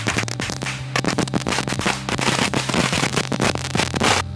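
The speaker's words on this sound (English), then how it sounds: "Take the only fireworks we have left from the 4th of July, and using this lighter, we're going to light them" Leftover Fourth of July fireworks, lit with a lighter outside an office, go off in a rapid string of sharp crackling pops. The loud bursts come close together over a low steady hum, with no voices.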